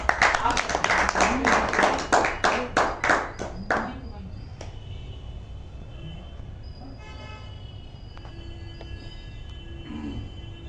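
An audience at a gurukul gathering bursts into loud applause welcoming a speaker, a few seconds of brisk clapping that fades out, leaving a quiet room with faint background sounds.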